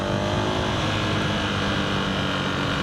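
A KTM dirt bike engine runs continuously, a loud, dense, rough drone held at a steady pitch without clear gaps, close to the listener.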